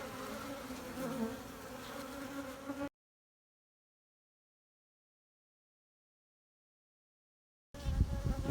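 Honey bees drone steadily around a swarm hive building irregular comb in an apiary. The buzzing is close and continuous, cut by a long stretch of silence before it resumes briefly.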